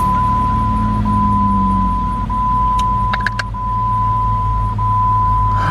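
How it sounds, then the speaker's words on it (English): Just after starting, a 2002 Jeep Grand Cherokee Laredo's engine runs at a steady low idle with a constant high electronic tone and a few brief clicks in the middle. "Start this vehicle up."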